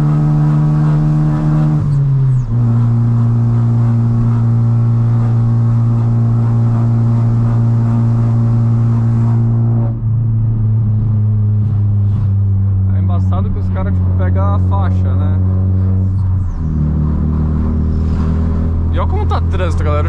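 Corsa GSI 1.6 16V engine revs hard climbing a mountain road, loud in-cabin drone rising through each gear with distinct shift drops, while voices talk over it late on.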